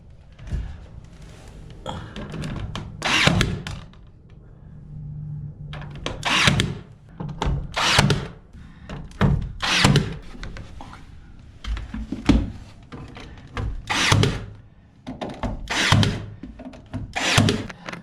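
A stapler drives 1/4 inch crown staples, 1.5 inches long, into wood in a tiny log cabin bathroom build, giving sharp, loud snapping shots spaced roughly every second or two over a quiet background, with no talking.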